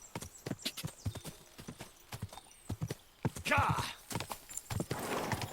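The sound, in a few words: horse hooves, Kingdom Come Deliverance II video game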